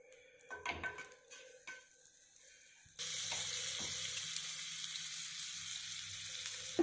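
Butter sizzles in a hot pan while bread toasts, starting after a few clinks and knocks and then settling into a steady, close, continuous frying hiss with no talk.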